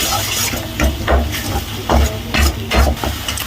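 Masala and paste sautéed in oil in a pan for a home-style Tamil dish, stirred in rhythmic scraping strokes about every half second over a steady, close sizzle.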